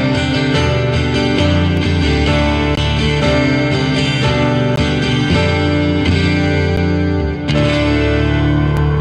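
A virtual piano in a blues game, heard as dense, loud sustained chords with a heavily processed, distorted tone and frequent struck attacks, continuous throughout with no speech.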